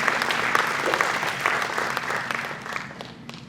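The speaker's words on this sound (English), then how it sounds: "We should clap for you" An audience at a fund results presentation breaks into steady, fairly loud applause that thins out over a few seconds.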